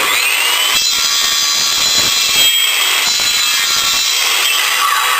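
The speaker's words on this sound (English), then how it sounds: "the tool I learned to carve on was the circular saw" Circular saw with its guard held back, its blade scraping and carving into wood, a loud continuous high whine with gritty rasping as the blade is drawn across the surface, no talk.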